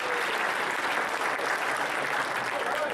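Steady audience applause from a crowd at a hackathon opening ceremony, a dense continuous clapping that holds at even loudness for a few seconds with no voices over it.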